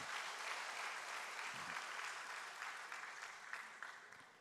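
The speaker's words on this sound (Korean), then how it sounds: "우리 한번 축하하면서 박수로 격려하겠습니다." A church congregation at a Sunday worship service in Busan claps together in sustained applause, heard fairly quietly and evenly, fading slightly toward the end.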